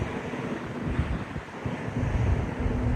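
Wind buffets the microphone over the rushing waves of the open Baltic Sea, heard from a ferry sailing between Stockholm and Mariehamn, as a steady, loud roar with a low engine hum underneath.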